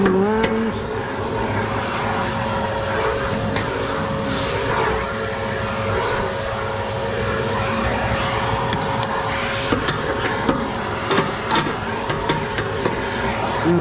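A vacuum cleaner hums steadily while cleaning out a stripped-down ACR Woodpecker wood stove with vermiculite bricks, its motor whine continuous with occasional knocks and scrapes of the nozzle against the firebox.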